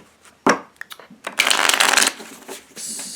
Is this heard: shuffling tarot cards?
yes